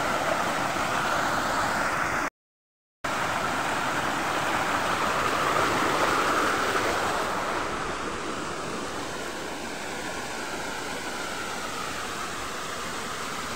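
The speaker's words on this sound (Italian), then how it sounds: "in lontananza si intravede la cascata e si sente lo scroscio." The Ninfa waterfall in Veio Park near Rome roars as a steady, dense broadband rush heard from a distance, continuous and unbroken apart from a brief dropout, with no voices.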